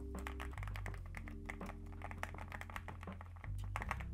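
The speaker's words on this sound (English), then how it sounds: "So this is a Bat Knight 75, or the BK 75. It's a keyboard," Close, fast typing on a Bat Knight 75 (BK75) mechanical keyboard: dense, deep clacking keystrokes in a quick irregular stream over a steady low hum.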